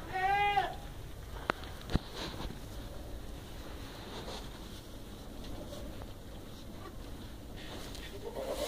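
Goats at kidding time bleat near the start, a few short wavering calls up close, then fade into a low steady farmyard background with brief knocks and soft rustling.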